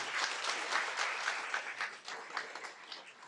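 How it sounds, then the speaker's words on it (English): Warm, steady applause from an audience at a school board meeting rolls on for a few seconds, moderately quiet and gradually thinning toward the end. "one more round of applause"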